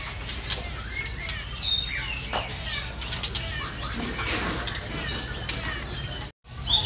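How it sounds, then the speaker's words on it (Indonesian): Caged straw-headed bulbuls (Cucak Rowo) in a bird shop at a mall, with scattered chirps, short calls and wing flutters over a busy, murmuring background, moderately faint and near. "Berlanjut kita ke stok burung Cucak Rowo juga di sini ready."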